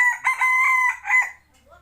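An F2 bait gamecock crows once, loud and close, a strained cock-a-doodle-doo with a brief break midway, followed by a faint low hum.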